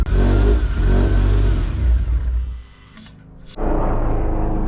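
A car engine fires up and revs loudly for a couple of seconds, drops away to a near stall, then catches again and settles into a rough, uneven idle, close by with no talking.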